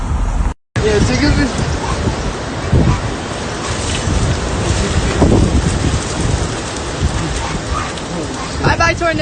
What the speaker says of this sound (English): Bye-bye, tornado. It's leaving already. It's passing by.